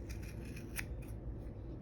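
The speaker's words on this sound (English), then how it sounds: "taking my scissors all the way in through my loops here to the end" Scissors snip through the yarn loops of a pom pom earring, a close, steady run of small crisp cuts with no one speaking.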